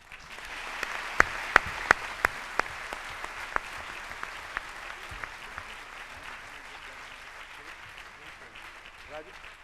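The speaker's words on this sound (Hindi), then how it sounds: "जरा एक गूंज से एक ताली हो जाए" Steady audience applause at a spiritual gathering in Delhi, India, sustained clapping from a crowd filling the room for nearly ten seconds, with a few sharper nearby claps standing out early on.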